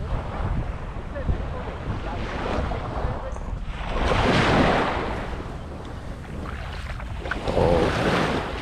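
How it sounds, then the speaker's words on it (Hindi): A boat moves on the water off the beach at Mamzar Beach Park, heard as a steady rush of water and surf under heavy wind buffeting the microphone, swelling louder midway and again near the end. "सामने बोट देखी होगी आपको"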